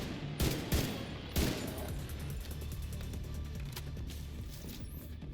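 Semi-automatic gunfire in The Division 2, a few sharp loud shots early, then a rapid steady train of repeated shots carrying on to the end, close and alone without talk.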